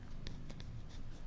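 A pen writing on paper during a class 8 maths lesson, a few faint, brief scratchy strokes close by against a quiet background.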